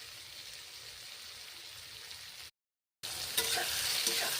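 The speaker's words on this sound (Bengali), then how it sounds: "ভেজে নিচ্ছি ঝিঙেগুলো" Ridge gourd fries in a pan with turmeric and salt, a steady close sizzle broken by a short silence, then louder crackling and stirring with no voices.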